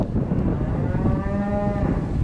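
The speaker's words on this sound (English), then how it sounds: "cows are still in." A cow mooing indoors on a farm in winter, a single drawn-out, fairly close moo rising out of a steady background rumble.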